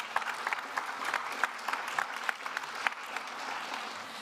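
A conference audience applauds, a steady patter of many hands clapping at moderate distance, continuing evenly for several seconds without voices.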